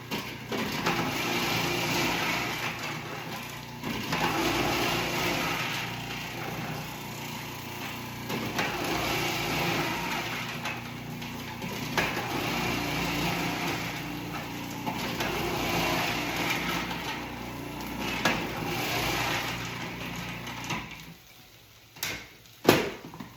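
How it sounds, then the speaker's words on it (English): Food processor shredding sweet potato and brussels sprouts, a continuous whirring motor drone with gritty chopping texture, close and steady for about twenty seconds before winding down, followed by a few clunks. "Stand on this side so you guys can kind of see the food processor."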